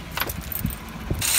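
Car keys jangling inside a car: a few quick metallic rattles and clinks, close and fairly soft, with light handling noise around them.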